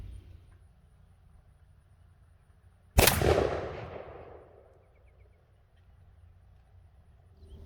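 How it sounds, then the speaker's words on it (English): A Remington 11-87 shotgun fires a 3-inch, 2-ounce load of lead #6 shot at a pattern target outdoors: one sharp, loud blast after a quiet lead-in, its echo trailing off over about two seconds. "So let's go over here and shoot them and see what they can do."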